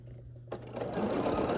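After a quiet hum, a sewing machine starts up stitching quilt block pieces together, its motor whirring steadily louder and faster, close and alone.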